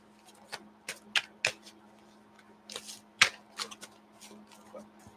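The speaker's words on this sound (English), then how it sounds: "Let me shuffle these." Tarot cards being shuffled by hand in a quiet room: a series of soft, irregular riffling and tapping bursts, moderately close, with a steady low hum underneath and no talking.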